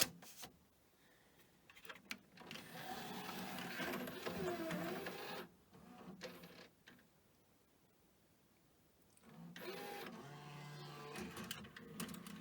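A Pioneer DVL-K88 laserdisc player mechanism runs quietly with rhythmic clicking, ticking and whirring mechanical noises. Bursts of activity come in uneven stretches separated by near-silent pauses.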